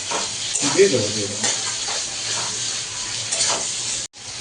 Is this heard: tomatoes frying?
yes